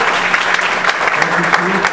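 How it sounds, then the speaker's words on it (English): An audience applauds at the end of a talk about mobile technology at a Los Angeles meetup, with dense, close clapping running throughout while a voice speaks over it. "Let's give Keith Horn a round of applause."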